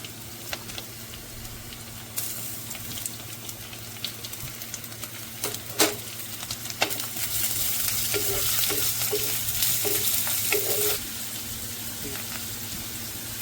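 Chopped onions frying and sizzling in a pan for a Kottayam-style fish curry, a steady close crackle with a louder burst about two seconds in, scraping stirs scattered throughout and no talk.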